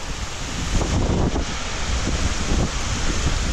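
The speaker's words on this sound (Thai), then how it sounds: "คงจะหมดเพราะลมมันแรงมาก" Strong wind roars continuously into the microphone, a dense buffeting rush with gusts swelling and fading, with no voices.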